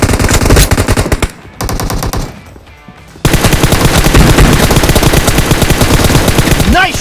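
Automatic gunfire in the mobile battle game PUBG Mobile, loud and near, with dense rapid bursts, a brief lull around a quieter stretch, then another long sustained volley.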